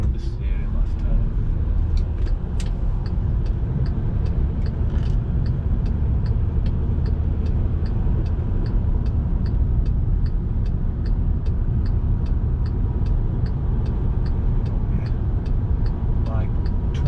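A VW Amarok pickup takes a roundabout, heard as a continuous low road and engine rumble from inside the cab, with faint regular ticking above it.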